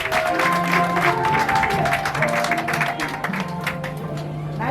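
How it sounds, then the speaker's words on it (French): Guests at a civil wedding clap, with many hands applauding steadily while voices talk over them throughout. "Très bien, on applaudit"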